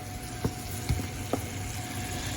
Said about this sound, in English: Now that my hamburger is starting to brown, I'm gonna add in the seasoning